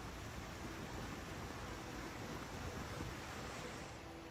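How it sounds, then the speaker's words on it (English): Strong wind gusts during a stormy spell of rain, lightning and thunder in the UAE, a steady loud broadband roar and rush that stays dense and unbroken throughout, with no voices. "Strong wind gusts added to the unstable conditions."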